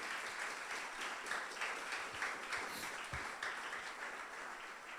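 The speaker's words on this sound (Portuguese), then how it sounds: "pode aplaudir Jesus, aleluia." A church congregation applauding during a service: steady, dense applause from many hands, a soft even wash of clapping heard at some distance, low in level and with no talk over it.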